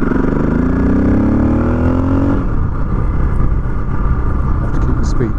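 A motorcycle engine hums and drones continuously while being ridden at around 30 mph, the pitch shifting as it changes gear, with someone talking over it.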